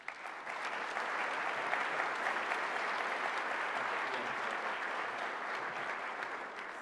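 Sustained audience applause fills a large hall at a space studies program opening ceremony, steady and dense from start to finish with no speech over it.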